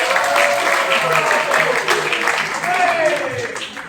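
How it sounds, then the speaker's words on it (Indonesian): Audience applause at a youth graduation celebration, a dense clapping wash with a voice speaking over it and faint tonal sounds drifting through. "Tepuk tangan untuk bapak-bapak hebat"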